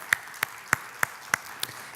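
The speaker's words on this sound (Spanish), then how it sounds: "Un fuerte aplauso." A few people at a Bible study gathering give a welcome clap. There are six sharp, evenly spaced claps, about one every third of a second, over a faint quiet background.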